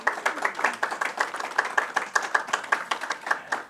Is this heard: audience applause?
yes